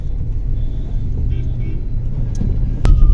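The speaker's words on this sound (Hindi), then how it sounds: "इस पे गाड़ी चलती है तो लगता है एयरपोर्ट पे रनवे पर हवाई जहाज भाग रहा है, बिल्कुल वही आवाज आती है।" A car driving along a road in Lucknow on a winter evening, giving a steady low rumble of engine and tyres close by, with a brief sharper noise near the end.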